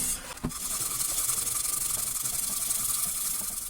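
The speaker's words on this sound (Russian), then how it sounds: "Возьму-ка я лучше железную мочалку и поработаю" Steel wool scrubbing a frying pan, a continuous harsh, gritty rasp of rapid back-and-forth strokes, close and moderately loud, with one sharp knock near the start.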